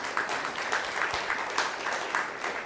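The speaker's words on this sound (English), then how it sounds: "And maybe one more round of applause." Audience applause following an academic talk on digitalization and education systems, a dense, steady clapping that fills the whole stretch at even loudness with no voices over it.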